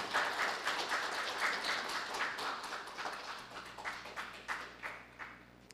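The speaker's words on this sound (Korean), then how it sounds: "여러분 뜨거운 박수로 환영해 주시기 바랍니다." An audience at a public meeting in Namwon, South Korea, claps in a warm round of applause welcoming a guest speaker, gradually thinning out into fewer, slower claps as it fades.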